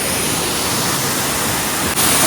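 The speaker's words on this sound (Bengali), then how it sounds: "প্রায় 3টে ধাপে এই ওয়াটারফল" A three-tiered waterfall about 150 feet high, surrounded by dense forest near Pabong village in Kalimpong, roars as a loud, constant, close wash of falling water.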